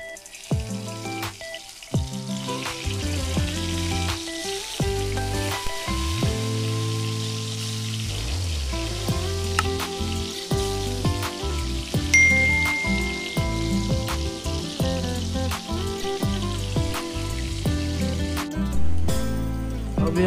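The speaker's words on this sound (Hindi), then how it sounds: "अभी हमें बैंगन को फ्राई कर लेंगे।" Eggplant (baingan) slices fry in hot oil with a constant crackling sizzle over more than twenty seconds. Loud background music plays throughout.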